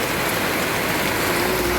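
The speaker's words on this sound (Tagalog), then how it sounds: "Sobrang lakas ng ulan Lord" A heavy downpour with wind in a plot of banana plants and other crops, heard as a dense, steady roaring hiss that stays loud throughout with no breaks.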